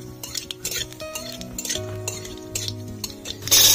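A spoon stirs mustard oil with two dried chillies and nigella seeds in a pan, making repeated close metallic scrapes and clinks in an uneven rhythm over a soft sizzle.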